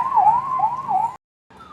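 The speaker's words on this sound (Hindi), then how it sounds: "हाँ इधर से गुजरती रहती हैं सायरन वाली गाड़ियाँ" A police vehicle's siren wails loudly with a rising and falling tone as it passes along a VVIP road in India, then cuts off abruptly before resuming faintly.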